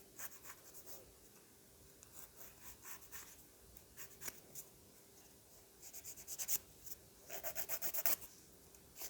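A nail file rasps back and forth across fingernails while they are prepped for dip powder, a soft, steady scratching that grows brisker and louder toward the end, close and unaccompanied by speech.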